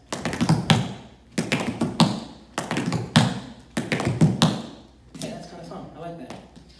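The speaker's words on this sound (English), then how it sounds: "practice your cramp rolls, get all these different variations" Tap shoes rattle out quick traveling cramp rolls in bursts of rapid clustered strikes on a hard floor, close and crisp, with short gaps between phrases.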